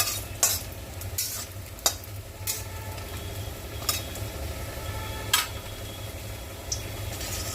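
Bori, sun-dried lentil dumplings, frying in hot oil with a steady crackling sizzle, broken by several sharp spatters and utensil clicks; no talking.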